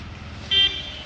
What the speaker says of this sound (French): Il me klaxonne